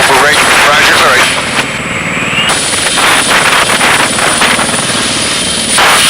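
Loud helicopter engine and rotor drone running throughout, close and steady, with a brief dip in level partway through and voices talking over it.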